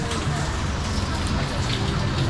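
Steady broadband hiss of heavy rain falling during Typhoon Basya, loud and continuous, with a voice speaking over it.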